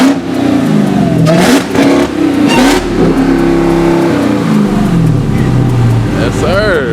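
A 1000-horsepower Dodge Hellcat revs hard several times, loud rising and falling engine blips close by, with voices talking over parts of it.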